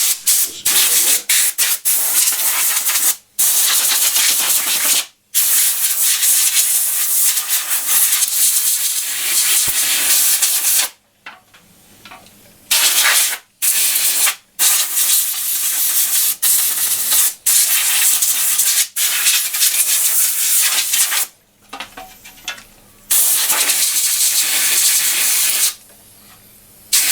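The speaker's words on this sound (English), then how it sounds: "we'll blow off this dust, and if you happen to have a compressor with a spray nozzle" Compressed air from a compressor spray nozzle blasts dust off a bathroom exhaust fan in loud, close, sustained hissing bursts separated by brief silences, with no talking.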